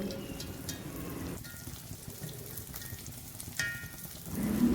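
Cucur jawa pandan batter fritters frying in hot oil, a quiet, steady crackling sizzle with soft scraping of a spoon, continuous and low in level, with no talk.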